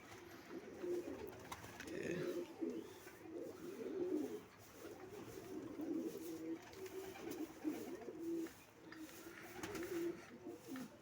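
Soft, low pigeon coos repeat in rolling phrases throughout, fairly close, with faint background rustle and no talking.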